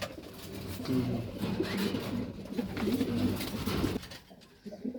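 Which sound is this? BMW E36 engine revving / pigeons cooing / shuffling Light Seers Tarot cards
pigeons cooing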